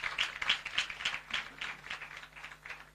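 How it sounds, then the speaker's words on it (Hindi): A church congregation claps for itself during a sermon, a run of loose, moderately loud claps in an uneven rhythm that thins out toward the end. "ताली लगो अपने लिए, क्योंकि आप आत्मिक लोग हैं।"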